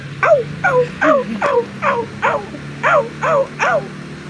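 A small dog yips and barks in a quick series of about nine short, high calls, fairly close, with a low steady hum underneath.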